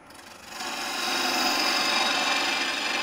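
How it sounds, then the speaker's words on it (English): A wood lathe turning a hollow form at about 700 RPM, with a tool cutting the spinning wood: a steady raspy scraping that swells in and then holds a constant, close hiss with no talk. "At this point, we're probably turning at about 700 RPMs"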